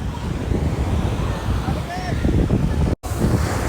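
Sea waves wash onto a beach at sunset in a steady, loud roar. Heavy wind buffets the microphone throughout, and a brief dropout cuts the sound near the end.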